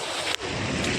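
Strong sea waves surging at Haji Ali, heard as a loud, continuous wash of broadband water noise with wind buffeting the microphone and a brief dip partway through.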